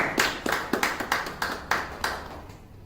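Clapping from a small audience at a company launch event in Dubai, a dozen or so sharp hand claps in a loose, uneven rhythm, fairly close and fading toward the end.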